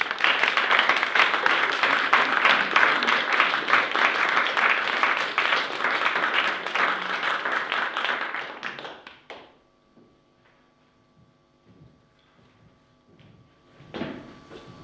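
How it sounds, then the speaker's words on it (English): Applause at a youth awards ceremony: a loud, sustained round of clapping from the audience fills the first nine seconds, then dies away into near silence broken by a few soft knocks and a brief final flurry. "let's just give a round of applause for everybody who is here tonight"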